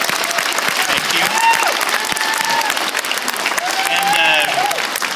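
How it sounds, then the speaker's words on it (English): Sustained audience applause at a live fan event honoring actors Anthony Daniels and Billy Dee Williams, dense clapping filling the room for several seconds with scattered cheers and voices mixed in. "Let's give a round of applause."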